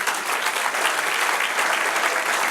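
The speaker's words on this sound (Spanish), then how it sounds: "Dale otro aplauso al Señor." A church congregation claps loudly and continuously in a dense, even wash of applause during a sermon, with no speech over it.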